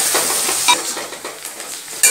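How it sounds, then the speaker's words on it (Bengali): Finely chopped onion frying in a pan until reddish, with steady close sizzling and a few sharper stirring scrapes and clinks punctuating the hiss. "পেঁয়াজটাকে আমি লাল লাল করে ভেজে নেব।"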